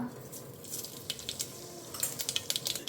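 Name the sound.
mustard seeds sizzling in hot oil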